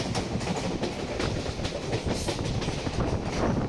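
A passenger train bound for Kolkata runs along the rails, heard from on board as a steady, close rumble with rhythmic wheel clatter throughout and no talking.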